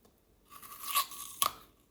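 Someone bites into a crunchy unripe pear, giving two crisp, close crunches about half a second apart. No voices are heard.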